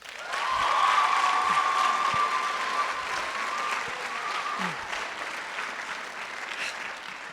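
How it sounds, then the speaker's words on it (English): An audience at a parent concert breaks into applause that swells quickly, holds as a dense patter of many hands, then slowly tapers off over several seconds. "so applaud them"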